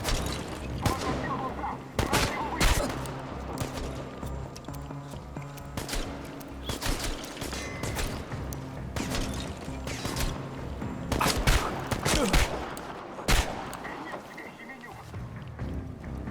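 Rapid bursts of gunfire crackle repeatedly over a busy, layered soundscape in the video game Chernobylite 2, with sharp shots clustered near the start and middle.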